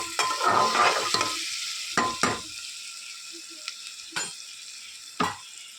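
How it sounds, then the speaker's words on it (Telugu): Onions frying in a pan until brown for a chicken curry with mamidi kaya, with a steady sizzle and several distinct stirring scrapes and clacks of a spoon against the pan, close and alone. "చూడండి ఉల్లిపాయలు ఇలా బ్రౌన్ కలర్లోకి వచ్చాక"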